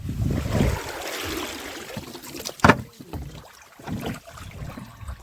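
About four kilos of freshly caught fish get washed at a riverside landing in the Sundarbans, giving irregular close splashes and sloshing water with quiet gaps between.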